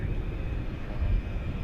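Airliner engine of a Turkish Airlines flight to Istanbul backing out of a terminal at DFW Airport at night, a steady low distant rumble with a faint high whine above it.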